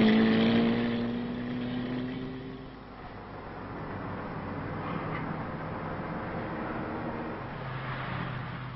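A 1965 motorcycle descends from the Col de la Faucille, its engine droning steadily close by with a falling whine at first, then a rough, even roar that keeps going.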